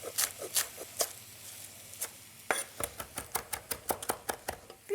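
A knife roughly chops scrunched parsley leaves on a cutting board. Quiet, crisp taps come irregularly at first, then settle into a quick, steady rhythm, close by and with no voices.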